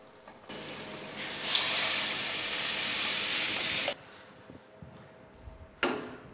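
Water poured onto crushed prawn heads in a hot pot for paella stock bursts into a loud, sustained steamy hiss for a few seconds, then cuts off, followed by a few clanks and a brief final sizzle.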